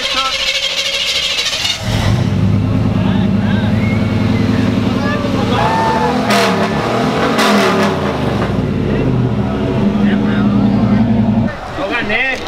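A pickup truck engine cranks and fires up after a short pause, then roars loud and close through repeated revs that rise and fall, with voices talking over the engine noise.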